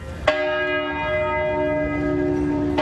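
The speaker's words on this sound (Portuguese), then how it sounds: "Estes são alguns dos antigos templos que até hoje preservam em suas torres o badalar do anúncio do Cristo." Church bells ring out from an old church tower, a loud struck peal followed by a long sustained, humming resonance with overtones that keeps ringing steadily throughout.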